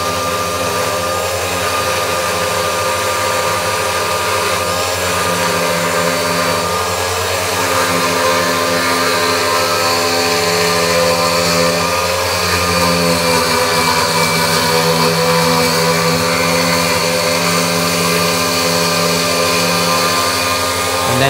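Drill turning a cutter through material while making bellows for Northumbrian smallpipes, a steady loud motor whine with humming tones that holds continuously throughout, no talking.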